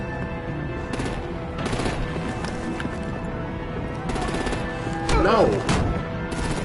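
Gunfire in the Batman: The Enemy Within video game, bursts of shots crackling under shouted dialogue and game music, with a loud burst near the end.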